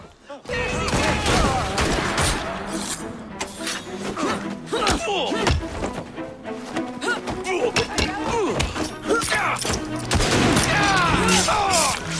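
A group fires a musket volley in Assassin's Creed Syndicate, sending sharp overlapping gunshots and thuds across several seconds of combat, with voices heard amid the shooting.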